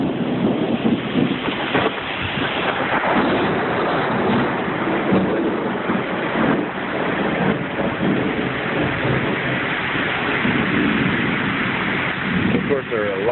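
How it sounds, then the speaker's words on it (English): A thunderstorm with steady rain and rolling thunder fills the whole stretch, loud and continuous, with no pause in the downpour. "my God, I love me a thunderstorm."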